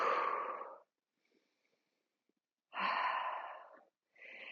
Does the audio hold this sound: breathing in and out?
yes